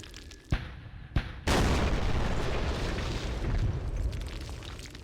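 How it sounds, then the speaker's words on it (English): Viet Cong mortar rounds strike a firebase in Campaign Series Vietnam: two sharp cracks, then a heavy booming blast that rolls into sustained roaring rumble. "Now we're taking some artillery fire."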